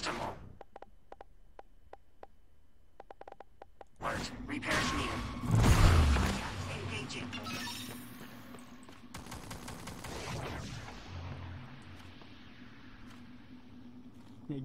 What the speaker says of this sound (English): My fortified turret's kicking your butt.